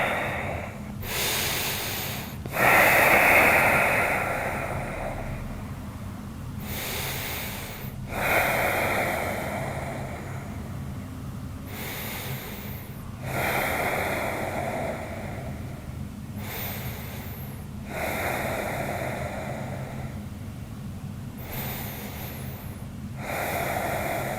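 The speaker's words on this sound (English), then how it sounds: "Take 7 to 10 breaths here." Deep, slow breathing held during a yoga stretch, about six long inhales and exhales roughly four seconds apart, close and airy with slight nasal snorts, with no talk.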